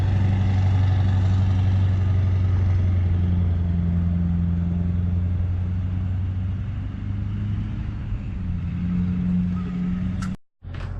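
Truck fitted with a swapped-in LB7 diesel engine on its first drive, a steady close engine drone with a low hum throughout, briefly cutting out near the end.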